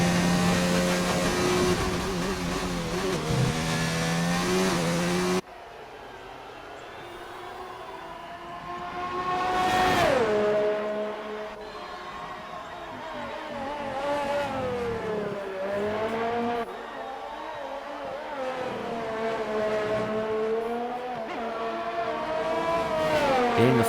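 A McLaren race car engine screams through a flying lap in an Australia-set racing video game, its pitch rising and falling continuously through gear changes and corners, loud and close with no talking.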